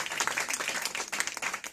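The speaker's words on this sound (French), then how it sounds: "On peut applaudir." Audience applause at a live talk, a dense, steady patter of many hands clapping at once, close and lively, filling the short moment without speech.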